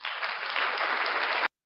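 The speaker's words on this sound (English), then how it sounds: "Round of applause for Mini Hez." A short, dense burst of applause from a small live-stream audience, steady and close, ending abruptly.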